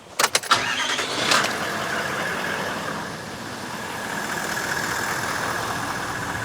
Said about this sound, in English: let's start the car and see what this looks like